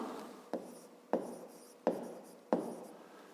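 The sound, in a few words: writing on paper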